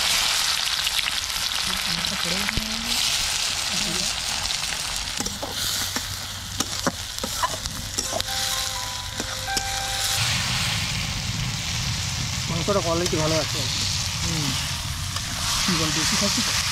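Potatoes frying in hot oil outdoors at a village garden house, a loud steady sizzle running throughout with clinks of utensils, while people talk over it at times.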